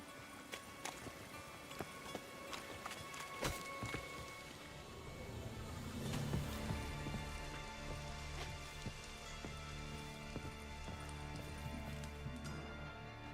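Continuous rain in the video game Witcher 3 hisses and patters on surfaces, with sharp drip and impact ticks and a steady clip-clop of hooves running beneath it, no talk.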